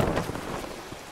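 Stormy weather at sea in Sea of Thieves, with a loud, dense roar of rain and wind and low thunder rumbling underneath, sustained and close throughout.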